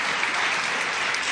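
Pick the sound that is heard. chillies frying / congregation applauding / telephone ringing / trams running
congregation applauding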